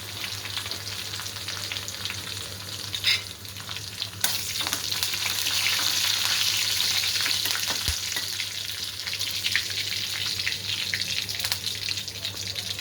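Torn curry leaves fry in hot oil for a bitter gourd dish, a loud, continuous crackling sizzle that swells in the middle, with occasional stirring knocks close by.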